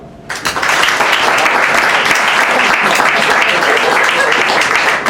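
A comedy club audience at a stand-up show bursts into loud, sustained applause that starts suddenly and holds steady for several seconds, with some cheering voices mixed in.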